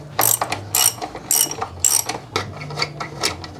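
A ratchet wrench fitted with a 14 mm socket loosens the two hex bolts on the rear brake caliper of a Yamaha NMAX 155 scooter, giving close, sharp bursts of rapid clicking in an uneven rhythm.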